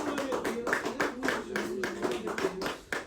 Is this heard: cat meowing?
no